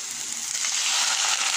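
Lapu-lapu fish frying in a pan with garlic, onion and ginger, a bright steady hiss that grows slightly louder, close and unbroken.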